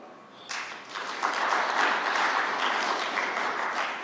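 A conference audience applauds Ethiopian Airlines during a speech by the African Development Bank president in Addis Ababa, steady full clapping that swells within the first second and holds loud to the end.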